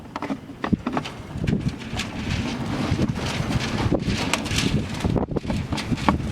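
Gusty wind blasts across the microphone during work on a Toyota Avalon, a continuous rumbling roar with rising and falling buffets.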